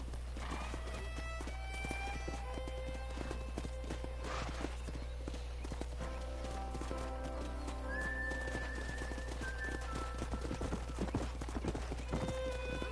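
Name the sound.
horses galloping and neighing, from a video game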